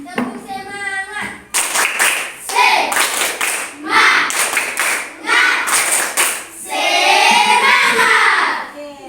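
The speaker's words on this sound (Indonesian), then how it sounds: "Tepuk semangat dulu supaya baru kita lanjut." A classroom of children performs the rhythmic 'tepuk semangat' spirit clap, with patterned bursts of hand claps and chanted voices alternating with short pauses, loud and close.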